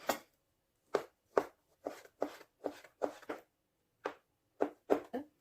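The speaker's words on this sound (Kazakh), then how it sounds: "қызылшаны турап алайық" Knife chopping beetroot on a board in short, separate strokes, about a dozen in irregular bursts with brief pauses between, close and crisp.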